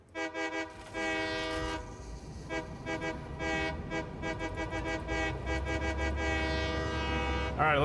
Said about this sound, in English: You get a honk honk? I'll give you a honk.